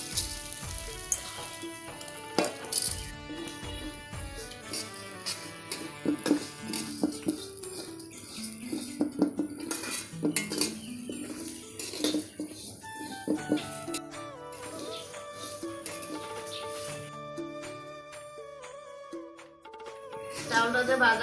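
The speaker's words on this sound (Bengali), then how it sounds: "চাউলটা যে ভাজা হচ্ছে বোঝা যাচ্ছে চাউলটা ফুটতেছে তো" Rice grains dry-roasting and being stirred in a hot karahi, with light crackling and popping and occasional scraping against the pan, fairly quiet and continuous.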